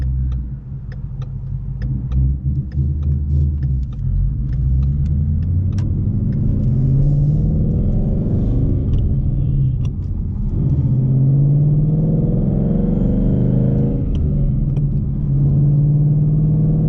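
A modified car's engine and exhaust rumble steadily and loudly up close, rising and falling in pitch as revs change, with occasional sharp crackles and pops from backfires in the exhaust.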